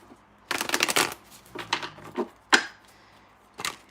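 Tarot cards are shuffled close up in several quick riffling bursts separated by short pauses, ending with a sharp snap and one last brief flutter.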